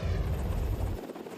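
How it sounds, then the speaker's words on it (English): A rescue helicopter flies close overhead, its loud steady rotor thump and engine roar filling the moment before easing off slightly near the end. "These helicopters are made to take off and fly in winds that can exceed 100 miles per hour."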